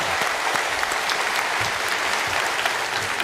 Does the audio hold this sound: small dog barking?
no